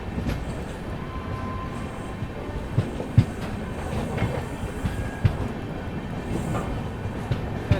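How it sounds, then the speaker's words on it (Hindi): Swarna Shatabdi Express from Lucknow to New Delhi crossing at 2 a.m., heard as a continuous rolling rumble with periodic wheel clicks over rail joints, steady and close throughout with no talk. "सामने से आती हुई अपनी लखनऊ से चलकर न्यू दिल्ली की ओर जाने वाली स्वर्ण शताब्दी एक्सप्रेस रात के 2 बजे हो रही है क्रॉसिंग"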